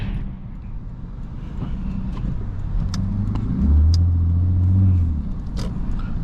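Lexus IS250 with a failed catalytic converter struggling for traction in a snowstorm, a steady engine hum inside the cabin that swells into a heavier, louder low drone midway before easing back, with faint clicks and no voices.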